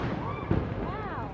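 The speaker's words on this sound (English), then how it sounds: "it's just a tradition that they fire this cannon at noon" A noon cannon fires in Zagreb, Croatia: one short, heavy boom right in the middle, with voices and crowd chatter continuing beneath it.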